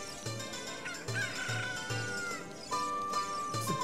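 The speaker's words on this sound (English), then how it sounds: "Come here, chicken." Chickens in Zelda: Ocarina of Time cluck repeatedly in short game-audio bursts at a steady rhythm, with a rooster-like crow mixed in over a game music bed.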